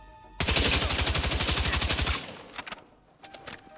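A rapid burst of automatic gunfire in the video game Battlefield 6, close and loud, runs for about two seconds, followed by a few scattered single shots.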